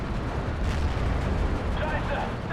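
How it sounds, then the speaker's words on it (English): Artillery shells fall and burst around a defensive position in the World War II strategy game Steel Division 2, a continuous, heavy low rumble of impacts and blasts under the sound of fighting. "artillery fire's inaccurately falling in our position"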